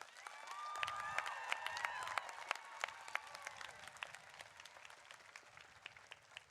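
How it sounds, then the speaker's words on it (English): Applause from the audience at a 2021 Cal Poly spring university commencement, a dense crowd clapping with some cheering that swells early and then gradually thins and fades. "a big round of applause to thank your friends and supporters that are here for you"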